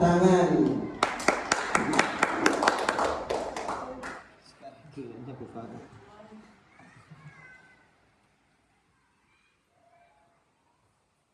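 Applause for a group of teachers at an elementary school session, a burst of brisk clapping lasting a few seconds before fading into soft chatter and then near quiet.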